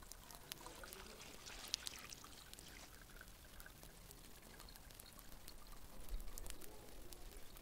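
Water is poured onto a flower as a faint, steady trickle lasting several seconds.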